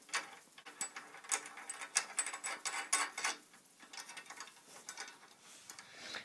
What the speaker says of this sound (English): Place another hinge right here and screw it on with three screws.